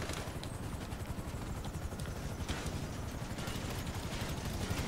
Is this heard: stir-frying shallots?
no